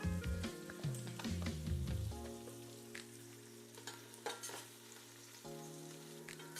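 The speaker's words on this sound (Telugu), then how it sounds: "కొంచెం సాల్ట్ వేసుకుంటే ఉల్లిపాయ మగ్గుతుంది." Onions sautéing with salt and a sprig of curry leaves in a pan: a steady close sizzle with scraping stirs, some clinking of a utensil against the pan, and brief musical tones early on.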